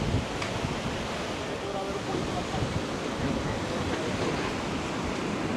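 Wind and surf on a Florida beach form a continuous broad rush of noise, steady and fairly loud, with gusts buffeting the microphone.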